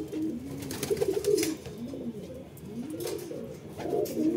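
Pigeons coo repeatedly as a newly added bird fights and blocks others from a loft, a steady run of low rolling calls with scuffling and flutter, close and loud, no talk.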